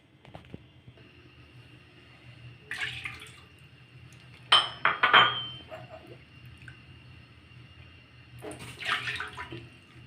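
Water splashes and trickles into a cooking pot in a few short pours, quiet and close, while kalojam syrup is being made in a home kitchen.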